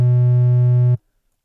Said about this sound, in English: Triangular wave, which is a little more distorted sounding.